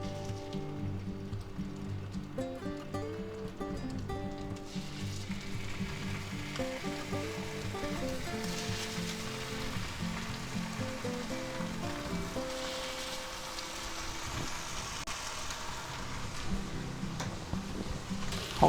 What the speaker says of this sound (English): now we're going to go ahead and take our nice salami slices and we'll put them right in there.